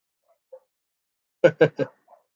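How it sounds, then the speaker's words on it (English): Three quick, sharp dog barks in a row, fairly close, with faint small yips before and after in an otherwise quiet space. "that's my dog in the background"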